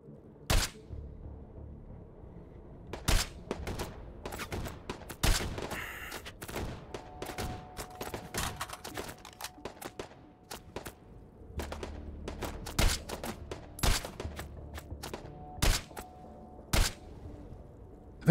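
Enemy gunfire in the VR shooter Hot Dogs, Horseshoes & Hand Grenades, with sharp gunshots cracking in irregular bursts and single shots, some close and loud, others more distant, over a quiet background.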